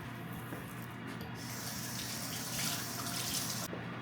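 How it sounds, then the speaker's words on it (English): Tap water runs steadily into a sink while food is rinsed for fish tacos, a close, continuous splashing gush that swells a little louder midway before easing off near the end. "Let me rinse this off."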